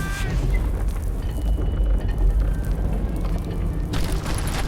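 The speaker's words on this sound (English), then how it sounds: "All it takes is one tiny spark, and boom" A mine exploding in the Wild West shooter Call of Juarez: Gunslinger, a deep, heavy boom with a long rolling low rumble and scattered debris, ending with a sharper crackle.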